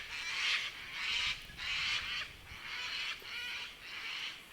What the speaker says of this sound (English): Bloody galahs, cockatoos.